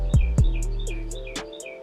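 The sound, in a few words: birds chirping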